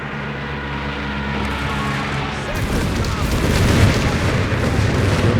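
A frag bomb goes off in the game Company of Heroes 3, a deep rumbling blast swelling and lingering under the steady background hum of battle.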